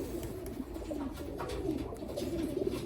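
A pair of Modena pigeons coo softly over a busy indoor background, their low calls repeating through the brief stretch.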